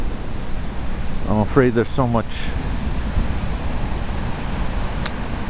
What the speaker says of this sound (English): I'm out in front of the house trying to get some footage of the waves at high tide